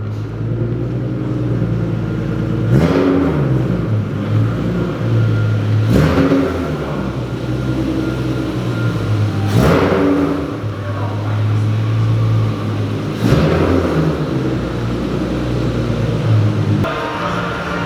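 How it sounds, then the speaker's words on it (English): Car engine idles and revs in repeated rising bursts as it pulls into a workshop, loud and close, with a steady low rumble between the surges. "Okay, the car's in."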